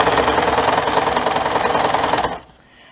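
A sewing machine stitches a seam on a ready-made garment being resized, running in a steady fast buzzing rhythm for about two seconds, then stopping abruptly.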